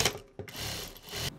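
A Juki Industrial DDL 900B sewing machine stitching straps for a denim handbag, running in a short close burst of fast mechanical whirring with a brief pause partway through.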